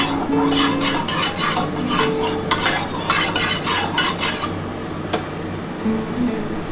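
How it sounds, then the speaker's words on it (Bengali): Eggs frying in a hot pan for egg chow mein, a steady sizzle with repeated scraping and stirring clinks of a spatula against the pan, close and fairly loud, no voices. "এবার আমি ডিমটা ভেজে নিচ্ছি।"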